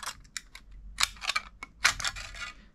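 Scissors snipping through a soda can template, a series of sharp, close metallic cuts in irregular bursts, some quick doubles, with no voices.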